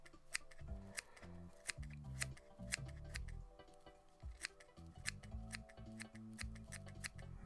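Scissors snip repeatedly while trimming material on a Chuck'N Duck fly being tied, a run of sharp close clicks and cuts at an uneven pace, fairly faint, with no voices.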